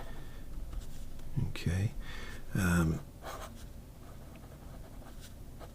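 A fountain pen with a 14 karat OMAS nib scratches faintly across paper, a quiet, close, continuous scratching sound; a voice speaks briefly over it partway through.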